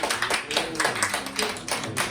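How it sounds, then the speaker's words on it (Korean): Clapping from a youth congregation at a middle-school church worship service, with distinct hand claps pulsing irregularly through the two seconds, a voice speaking faintly underneath. "네, 박수 쳐주세요."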